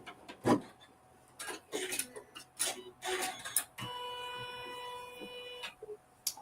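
Sewing machine piecing fabric with its automatic thread cutter on, several sharp clicks and clunks followed by a steady mechanical whir of stitching for about two seconds, then another clack, quiet and close.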